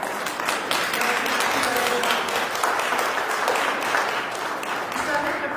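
A church congregation applauds at a Sunday gathering, with a dense, sustained clapping from many hands filling the room evenly from start to finish.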